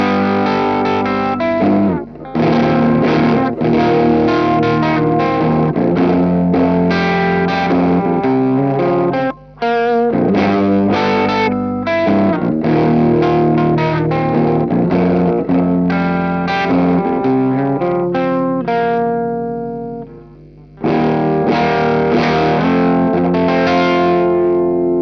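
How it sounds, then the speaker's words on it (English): Electric guitar played through a Green Mujina overdrive pedal at semi-clean settings, loud and steady with strummed chords and short riffs, a brief gap near ten seconds and a fading pause around twenty before playing resumes. "Here's some semi-clean tones for you."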